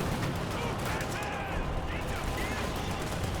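Dense, continuous artillery barrage in Company of Heroes 2 during an Axis versus Allies match, loud overlapping blasts and rumble filling the whole stretch without pause, with battle noise layered throughout.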